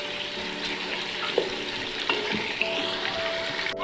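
Continuous loud sizzling of chicken frying in hot ghee, with occasional stirring scrapes; no voices.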